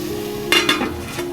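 Prawns tossed with salt in a pan for kolambi masala: a low steady sizzle with a few short bursts of stirring and scraping near the middle, with no talk.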